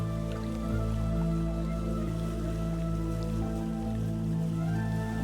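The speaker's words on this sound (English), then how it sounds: "Rain is very common." Rain falls in the survival video game Vintage Story, an even soft patter with drips. It plays beneath sustained tonal ambience that holds steady for the whole few seconds.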